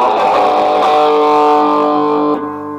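An electric guitar plays heavy metal through a Cort MX15R amplifier with distortion switched on, giving a loud, sustained and saturated chord that rings for about two seconds and then cuts off.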